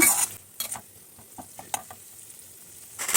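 Spice masala of chili, coriander, cumin and garam masala powders being sautéed in a pan for a prawn dopeyaja, with a soft sizzle under repeated scraping strokes of a spoon and louder frying bursts at the start and end.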